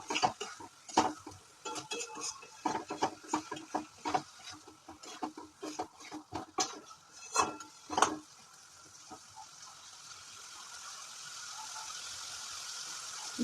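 Potatoes go into a cooking pot while egg curry is being prepared, giving a run of close clattering knocks and stirring scrapes with light sizzling, then a steady soft frying hiss that continues alone toward the end.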